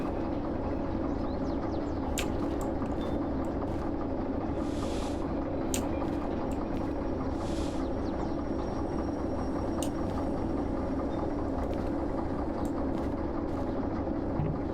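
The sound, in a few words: train locomotive shunting, from a video game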